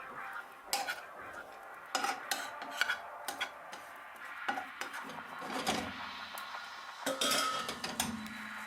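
Scraping and clattering of a utensil stirring nut granola frying in a pan, with irregular knocks and a soft sizzle underneath, no talking.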